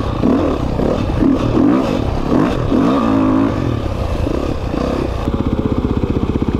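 A motorcycle engine revs loudly up close while riding around Emmett, Idaho, a rising and falling roar that settles into a rapid, even putter at the end.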